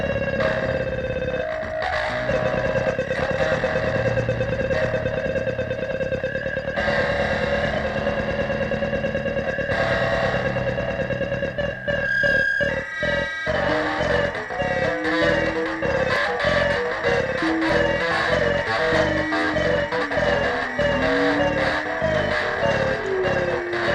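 Electronic music from a 1974 performance played through the wall of sound in Miami, with sustained synthetic tones giving way to choppy, pulsing bursts and gliding pitches, loud and continuous.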